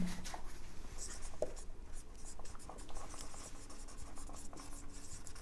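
Continuous scratching of writing during a chemistry lecture on coordination compounds, steady and close, with short strokes and pauses over an even background.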